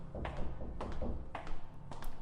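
Knocking on a door comes as a steady series of dull repeated raps at an even pace, moderately close and fairly quiet, with no voices.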